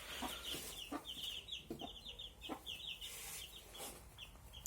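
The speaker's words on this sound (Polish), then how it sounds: "Że bardzo ładne kurczątka." Hens and young chicks from natural brooding, with repeated high thin chick peeps and occasional low hen clucks close by, faint and continuous.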